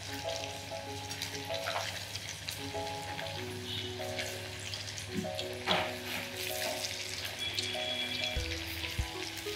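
Leftover rice pakoda frying in oil gives a steady, soft sizzle and bubbling, with faint kitchen clinks and background hum, and no talking.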